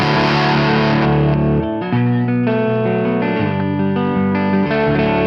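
Electric guitar played on a higher-output bridge pickup into an amplifier, bright and driven, with loud sustained chords changing every second or so and no talk.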